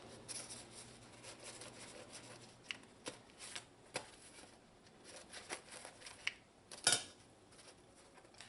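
Cooked Trinidad sada roti being cut up with quick, quiet scraping and tapping strokes, a string of soft irregular clicks with one sharper knock near the end, close by and with no talk.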